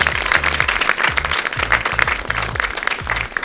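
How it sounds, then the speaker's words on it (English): An audience applauds the chairman at an honorary panel event, a loud, dense wave of clapping from many people, with a repeating low musical thump underneath. "Please give me a chairmanship round of applause."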